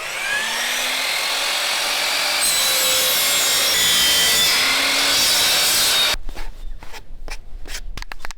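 Oak boards being sawn with a power saw, a loud continuous grinding whine for about six seconds, then the blade spins down into scattered knocks and handling clatter.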